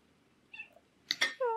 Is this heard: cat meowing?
yes